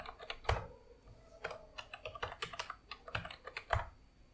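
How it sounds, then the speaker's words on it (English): Someone types a password on a computer keyboard while setting up DevStack on Ubuntu 20.04, producing a quick, irregular run of crisp key clicks with a few heavier strokes, close and alone. "So I'm going to put the password."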